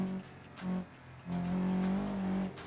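A rally car engine in BeamNG revs high in bursts: two short buzzing pulls, then a longer sustained high-rev drone that climbs and cuts off, heard up close without talk.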